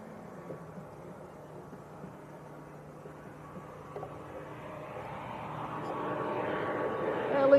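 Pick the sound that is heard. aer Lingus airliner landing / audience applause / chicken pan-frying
aer Lingus airliner landing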